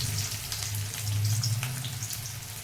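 Sliced onion, one medium and one small, frying in hot oil for a chicken ghugni, giving a steady close sizzle with faint crackles and a low hum underneath, no talking.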